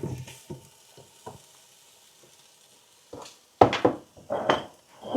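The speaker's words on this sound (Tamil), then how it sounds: "இப்போ பார்த்தீங்கன்னு சொன்னால் வெங்காயம் ஓரளவு கொஞ்சம் வதங்கிட்டு இன்னும் கொஞ்சம் வதங்க வேணும்." Onions sautéing in a pan at home, with a few soft stirring scrapes, a quiet pause, then louder clattering knocks and sizzling bursts as the pan is handled and covered, no talking.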